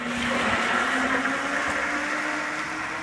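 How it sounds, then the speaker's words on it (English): A heavy-duty blender whirs steadily through a green smoothie, a loud, continuous motor roar with a dense churning hiss that holds at constant strength throughout. "And this was like a nice heavy duty blender."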